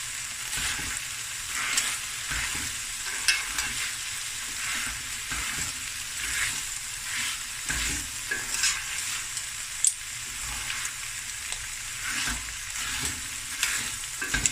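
Rice fries in a pan with a steady close sizzle and crackle, and occasional scrapes of stirring come through over several seconds.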